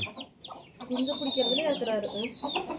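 Country hens clucking and squawking in agitated bursts while being grabbed, close and fairly loud, with a brief quieter gap near the start.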